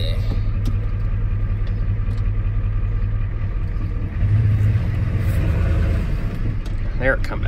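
A 1993 Ford F-250 with a 7.3L IDI diesel engine rumbles steadily as it drives and briefly revs up, with someone talking over the engine noise inside the cab.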